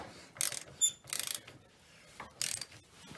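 A ratchet clicks in several quick bursts as it tightens the differential on a Yamaha Grizzly ATV, with short pauses between strokes, close and clear with no talking.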